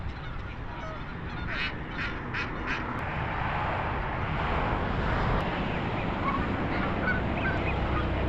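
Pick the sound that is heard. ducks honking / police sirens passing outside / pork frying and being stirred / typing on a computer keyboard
ducks honking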